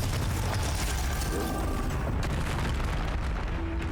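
In Hogwarts Legacy, a Confringo blasting spell bursts into a dense, rumbling explosion, loud and sustained, with roaring low-end debris and crackle that barely ebbs over several seconds.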